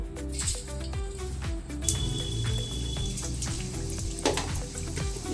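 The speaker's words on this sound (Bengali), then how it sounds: "এবার আমি চিকেনটা দিতে থাকবো" Pieces of chicken go into hot oil in a wok for chilli chicken, producing a steady crackling sizzle with sharp bursts of spitting, close and continuous.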